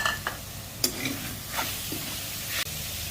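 Pork with lemongrass and kaffir lime leaves stir-fries in a pan for an Isan pumpkin curry, giving a steady close sizzle broken by a few scraping stirs, with no talking.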